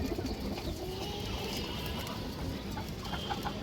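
A female pigeon coos softly, low and faint, against steady background noise.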